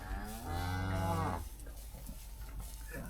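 A cow lets out one loud, close moo lasting over a second on a farm, followed by quieter barn background noise.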